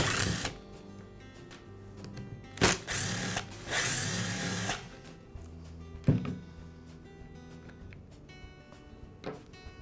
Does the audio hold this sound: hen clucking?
no